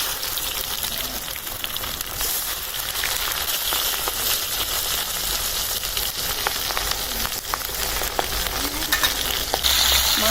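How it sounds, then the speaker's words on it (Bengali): Hilsa fish from the Padma river frying in hot oil, a loud, dense, unbroken sizzle and crackle that holds steady throughout, close and alone with no talk. "তেলটা গরম হয়ে গেছে মাছটা আমি দিয়ে দিলাম ভাজার জন্য"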